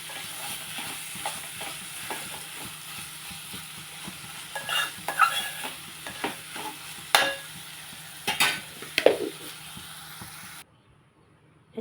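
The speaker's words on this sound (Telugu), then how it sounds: "కొంచెం కొబ్బరి వేసి కూర వేసి మనం స్టవ్ పెట్టేసుకుందాం" Coconut curry being stirred in a pan on the stove, soft scraping strokes over a low sizzle, with a few louder clattering stirs near the end before it cuts to silence.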